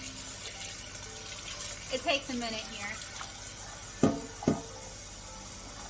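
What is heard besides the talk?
fresh hot water running from a sink tap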